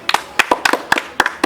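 Hands clapping during a karate class, a string of sharp, close claps in an uneven rhythm, about a dozen across a brief burst, with no talk.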